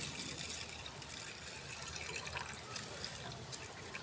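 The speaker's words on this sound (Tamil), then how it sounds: "இதில் தண்ணி ஊற்றி ஊற வச்சிடலாம்." Water pours steadily into a bowl of green gram set to soak for sprouting, a continuous close gushing fill with no talk.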